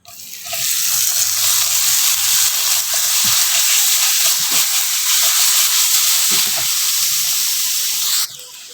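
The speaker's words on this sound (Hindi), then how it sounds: "लहसुन को अब हम अच्छी तरह फ्राई कर लेंगे।" Garlic frying in hot oil with dried coriander and cumin: a loud continuous sizzle and hiss starting abruptly and holding steady, with faint utensil clicks, then cutting off near the end.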